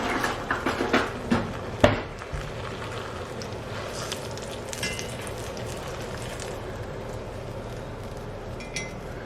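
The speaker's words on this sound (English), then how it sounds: "look at that bread sizzling" Bread frying in hot oil during a home dinner cook, giving a steady bright crackling sizzle after a few sharp clinks and knocks at the start.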